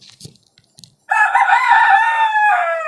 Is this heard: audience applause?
no